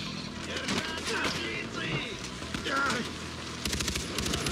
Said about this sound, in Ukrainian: Тепер от звідси, з цього боку по нас стріляють.